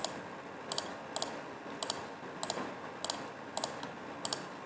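Mouse clicks on badges in the strategy game Game of Thrones: Winter is Coming, crisp paired clicks repeating at a quick, fairly even pace, close and alone.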